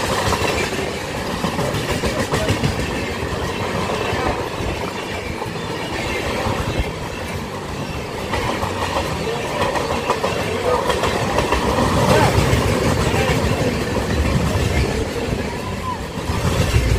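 The 15722 Paharia Express passenger train runs on rails from Howrah toward Digha, with a steady, loud rolling rumble, clickety-clack of wheels and occasional wheel squeal throughout.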